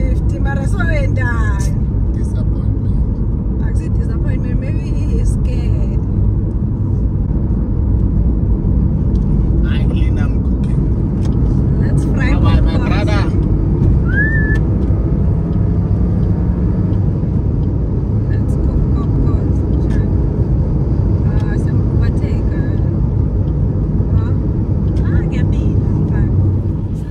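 A Suzuki Swift car cruising on the road, a constant loud interior engine and tyre drone throughout, with people talking over it now and then.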